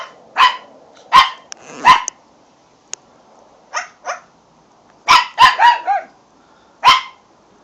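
A chihuahua barks sharply and close up in short clustered bursts, a few quick yaps, a pause, then a rapid string of four and a final lone bark, with small clicks between.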